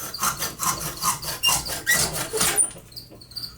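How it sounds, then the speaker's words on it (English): A miter box saw cuts through a small piece clamped in a vise, with about six rhythmic back-and-forth strokes, close and moderately loud, ending in a brief quiet stretch. "you can use the miter box saw and a vise to cut this down"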